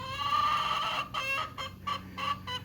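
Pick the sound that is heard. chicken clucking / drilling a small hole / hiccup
chicken clucking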